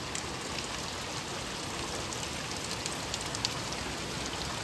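Torrential thunderstorm rain pours down steadily onto a flooded street in Westland, Michigan, a dense, even hiss with occasional louder drops and no voices.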